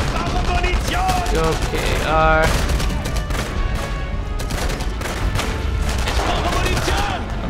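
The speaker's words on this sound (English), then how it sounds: "Pulling my pistol out." Dense, loud gunfire fills a firefight in the video game Enemy Front, with a pistol firing among the volleys, continuous and close, while someone briefly speaks over it.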